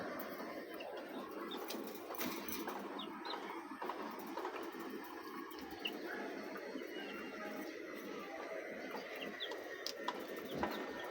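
Backyard chickens cluck softly and intermittently in a quiet outdoor setting, faint, scattered calls over a low steady ambient hum.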